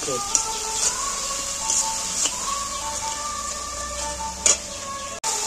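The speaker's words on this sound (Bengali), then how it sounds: "এইবার আমি মশলাটাকে ভালো করে কষিয়ে নেব।" Spice paste of chili powder, turmeric and salt fries in a pan for a fish curry, a steady soft sizzle broken by occasional scrapes and clinks of a stirring spoon against the pan.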